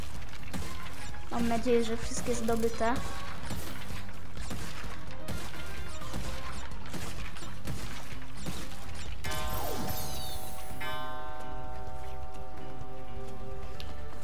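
Wooden crates breaking apart in Crash Bandicoot 4, a rapid run of sharp cracking smashes and clatter over game music, followed by a chiming pickup jingle, with someone talking over it.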